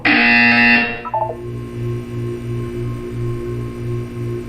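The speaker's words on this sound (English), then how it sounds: "You will hear a buzzer." A loud, harsh electronic buzzer from the Portal 2 video game blares for about a second, then gives way to a low pulsing hum and faint electronic tones.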